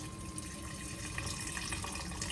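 Canned chicken broth poured from a can into a pot, a soft, steady stream of liquid with slight gurgles, quiet and close throughout.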